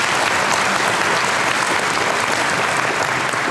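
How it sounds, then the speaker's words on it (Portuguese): A church congregation applauds during a sermon, dense loud clapping that holds steady and unbroken for the whole stretch, with no voice over it. "Pode aplaudir"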